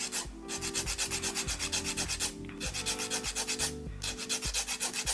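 A nail file rasps across fingernail tips during an at-home cat eye manicure, with quick, even back-and-forth strokes repeating steadily and close up, no talking.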